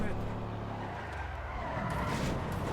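A car in GTA 5 slides and skids downhill, engine droning as the tires scrub and squeal, with a voice talking over it.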